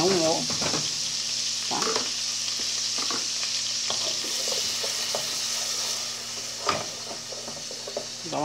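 Onion frying in a pan for chicken stroganoff, a steady close sizzle with intermittent stirring scrapes, and someone speaking briefly over it.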